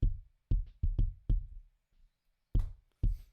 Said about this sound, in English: moving on to the kick out, this one's a bit more well-rounded and not as punchy